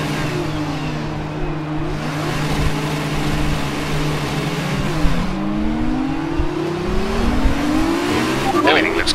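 Formula 1 race cars in the F1 2019 video game launching from a race start at the Hungary circuit, several engines revving high and rising through gears together, loud and continuous, with a tyre squeal and a voice talking over the engines.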